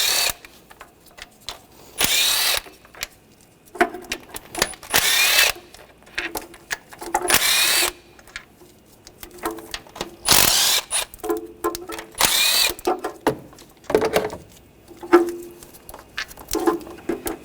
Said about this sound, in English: we'll take the rest of them out with a